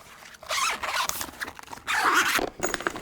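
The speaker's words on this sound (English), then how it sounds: "Zip it across. Close it up." A zipper is drawn closed around a Cordoba Mini guitar case in two long close pulls with a brief pause between them, ending in a short final tug, with no voices.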